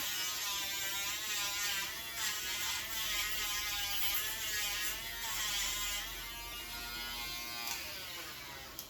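An electric grinder buzzes steadily on a dog's nails at a pet salon, a close, continuous whirring drone that holds for the whole stretch with only slight shifts in pitch as it presses against each nail.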